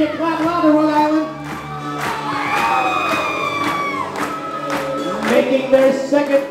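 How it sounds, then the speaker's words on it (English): Wedding guests at a Kinney Bungalow reception in Narragansett, Rhode Island, cheer loudly, with shouts, whoops and yells rising over the crowd along with the clapping, close and boisterous throughout. "I want to hear you clap louder, Rhode Island."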